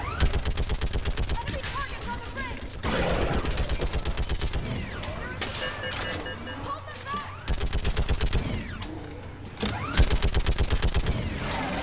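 Rapid, heavy automatic fire from a mounted gun in the Mass Effect video game, sustained rattling bursts with brief pauses between them, loud and close, with voices talking faintly beneath.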